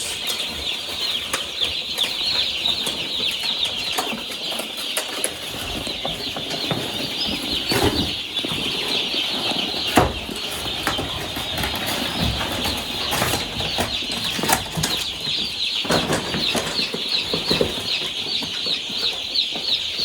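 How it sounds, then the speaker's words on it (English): Constant high-pitched cheeping of many young chicks, with scattered flapping and scuffling, steady and close throughout. "Little chickens."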